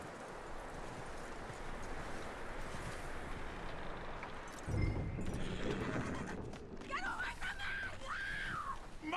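A horse in the video game Red Dead Redemption 2 lets out a clear whinny near the end, with hooves clopping and a steady ambient wash of outdoor game noise throughout.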